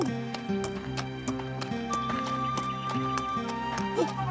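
A horse clip-clops along in a rhythmic string of hoofbeats, close and steady, over a musical backing with a brief neigh-like call near the end.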